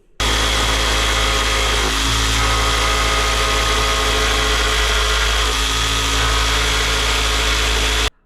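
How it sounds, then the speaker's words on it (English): A jigsaw runs steadily through a long cut in van-build panel material, a loud, continuous motor whine and blade buzz lasting about eight seconds with a brief dip midway, then stopping. "When you're using one of these jigsaws to make long cuts like this, it's hard to keep it straight."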